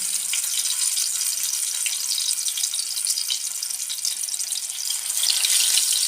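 Chapli kebab going into hot oil in a pan, giving a bright continuous hiss and crackle of frying that swells slightly toward the end, close and steady with no talk.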